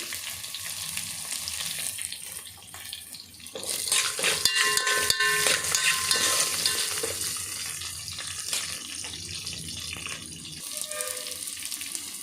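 Onions and cashews frying in a pan, a steady close sizzle that swells louder midway with stirring scrapes and some water-like hiss, no talking.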